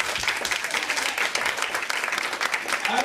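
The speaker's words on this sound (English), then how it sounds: "clap your hands for Jesus one more time" A church congregation claps hands for Jesus, a dense, lively burst of applause filling the room throughout, close and steady.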